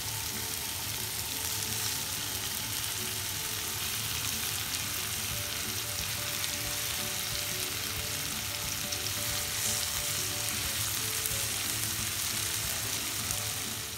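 Chicken pieces shallow-frying in oil over a medium flame, a dense, even sizzle that holds steady and close for the whole stretch.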